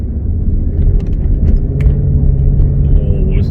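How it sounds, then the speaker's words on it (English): A 2003 Range Rover L322 with a 4.4 V8 and sports exhaust accelerates, a loud, steady low engine rumble heard from inside the cabin, building continuously without pause. "listen to that V8."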